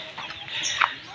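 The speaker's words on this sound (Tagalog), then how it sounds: "Ubusin na pagkain ng manok." Farm chickens clucking in a backyard yard, a brief, moderately close burst of soft clucks with a sharper cluck near the end.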